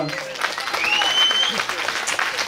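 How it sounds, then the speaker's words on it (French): Applause from an audience at the Star Tour 2023 finale concert, a short burst of dense clapping heard under a voice talking over it. "on peut encore l'applaudir"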